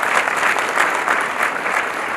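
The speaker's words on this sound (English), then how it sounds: "So maybe let's give Yvonne a final round of applause." An audience applauds steadily after a panel session at the Baobab Summit 2018 in Rwanda, dense clapping at full strength throughout, close and loud.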